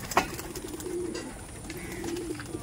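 Madrasi pigeons coo nearby in soft, low, rolling calls that come and go against a quiet background, with a brief sharper sound near the start.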